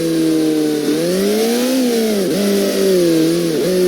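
A motorcycle engine in the HeadHunter video game revs steadily and loudly throughout, its pitch rising and dipping with throttle changes, and no voices are heard.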